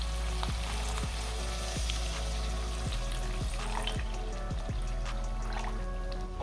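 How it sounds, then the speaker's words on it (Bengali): Coriander chicken frying in a pan hisses in a loud, steady sizzle as water is added, with a series of soft, regular clicks and stirring knocks running through it, close up. "এবার আমি খানিকটা জল অ্যাড করছি এর মধ্যে"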